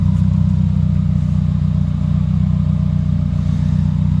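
A Subaru's engine idles steadily through a Carven cat-back exhaust system, with a deep, rumbling exhaust tone, loud and close, without pause.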